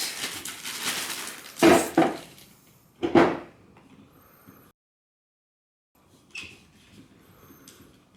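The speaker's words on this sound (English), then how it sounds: "I'm going to put the handle on because I don't want to wrench myself to bits" A side handle is fitted onto a Makita DHP481Z 18V combi drill, giving a few sharp plastic and metal clicks and clunks close up, separated by quiet handling noises and a brief silence.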